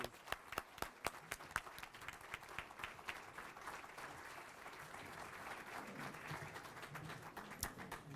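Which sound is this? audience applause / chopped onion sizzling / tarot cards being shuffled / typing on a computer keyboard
audience applause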